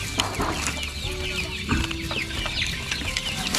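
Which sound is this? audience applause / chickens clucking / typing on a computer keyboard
chickens clucking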